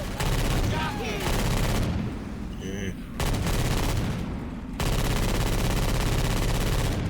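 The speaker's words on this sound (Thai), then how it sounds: "ยิงไข่มาให้แตกให้หมดเลยจ็กกี้เนี่ย" Rapid bursts of automatic gunfire in Left 4 Dead 2 as players shoot clusters of Jockey eggs, loud and sustained in long volleys with brief pauses between them.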